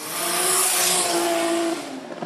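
A road-legal Nissan S15 street car howls at high revs while drifting at a live drift series round, a loud sustained engine note that sweeps and holds, with tire noise, then drops off sharply at the end.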